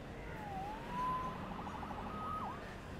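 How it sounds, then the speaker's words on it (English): A police siren in Spider-Man PS4 wails at moderate distance, its pitch sweeping up and down in a few rising and falling whoops over steady background noise. "Saved by the siren."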